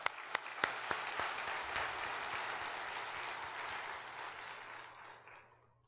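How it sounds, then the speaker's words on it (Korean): A church congregation at Daejeon Jungmun Church claps during a Sunday sermon, starting with a few sharp separate claps that merge into sustained, even applause before fading out near the end. "우리 자축에 박수 한번 합시다"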